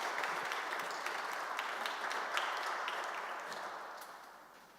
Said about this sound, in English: please join me for a warm round of applause.